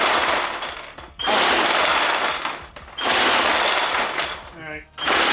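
A Nerf M134 minigun blaster fires in long, loud, continuous buzzing bursts, broken by two short gaps, with a whirring spin-down near the end.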